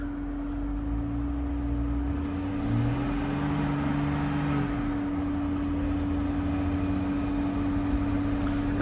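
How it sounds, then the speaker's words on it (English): A 2014 BMW 650 idles with a weird rattly noise apparently from the turbos, a steady drone with a strong hum and irregular rattling texture, recorded close up at an auto auction. "It's that weird rattly noise. I feel like it's coming from the turbos."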